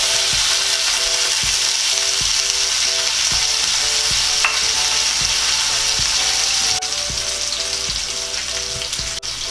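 Potatoes frying in hot oil, a loud, steady close-up sizzle with faint regular ticks running through it.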